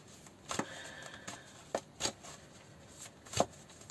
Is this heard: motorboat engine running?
no